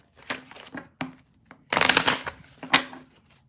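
A deck of cards shuffled close by in several bursts of riffling and crisp papery rustle, with short pauses between, the last bursts louder.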